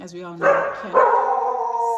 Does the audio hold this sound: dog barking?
yes